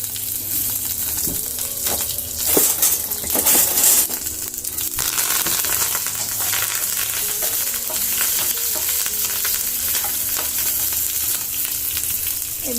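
Curry leaves dropped into hot refined oil on a pan along with cumin and mustard seeds, giving a loud, close, continuous sizzle and crackle with a brief stirring clatter, and no voices.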